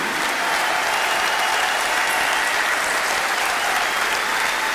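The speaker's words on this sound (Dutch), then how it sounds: "Laten we ze een groot applaus geven." A big crowd at a band's final live concert gives a loud, sustained round of applause, a thick continuous wash of clapping with no pauses.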